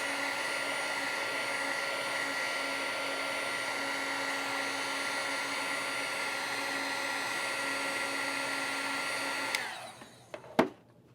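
Heat tool blowing a steady, loud whine and rush of air to dry freshly stamped ink on card, running continuously for about ten seconds before cutting off with a brief clunk.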